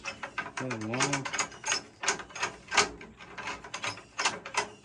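Long screws being turned out of a 1950s Slingerland snare drum, a busy run of ratcheting, clicking metal turns with scraping between them, close and fairly loud, with a brief hum near the start.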